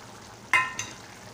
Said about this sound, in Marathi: आता मी तुपात भाजलेला रवा घालत आहे।